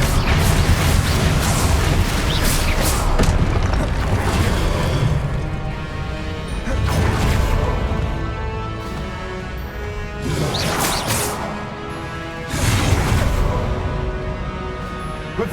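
Incendio and Confringo fire spell blasts in the video game Hogwarts Legacy, a series of loud whooshing bursts and crashing impacts about every few seconds over a rumbling, noisy backdrop.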